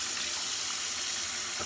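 A kitchen sink tap runs steadily while something is rinsed, a close, continuous hiss of falling water with no talking.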